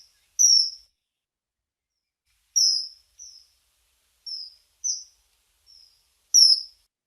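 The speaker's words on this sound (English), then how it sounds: "That's the kingfisher." A kingfisher calls in short, high, sharp piping notes, alone or in pairs, scattered irregularly across several seconds over complete silence. The calls are clear but fairly faint, as if heard from a distance.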